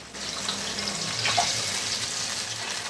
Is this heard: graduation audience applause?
no